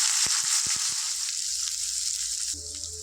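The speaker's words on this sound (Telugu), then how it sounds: "ఇందులో ఒక మీడియం సైజు టూ ఆనియన్స్ ఉన్న ఒక టెన్ మిర్చి వేసుకుంటాను ఫ్రెండ్స్ దీన్ని ఒకసారి ఇలా ఫ్రై చేసుకున్నాను" Onions and green chillies sizzle and fry in oil in a pan, a steady bright hiss with a few scraping stir clatters at the start, then a change in the frying tone near the end, close and without talk.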